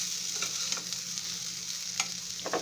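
A spoon stirs vermicelli sevai upma in a pan, giving soft scraping strokes at irregular intervals over a faint, steady sizzle, close up and without talk.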